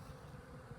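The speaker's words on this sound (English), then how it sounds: "So the bees are captured safely in there." Honeybees buzzing inside a closed wooden capture box with a pull-out metal tray after a hive removal, a steady low droning hum with no pauses.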